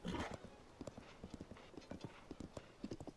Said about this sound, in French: Il est pas très rapide mon cheval en plus